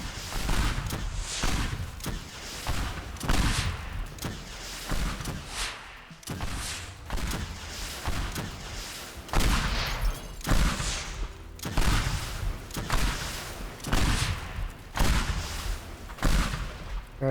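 A minigun in the Teardown video game fires in long rapid bursts, dense rattling gunfire with heavy thumps, loud and continuous with short pauses between volleys and no talking.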